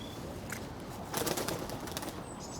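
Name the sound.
pigeons cooing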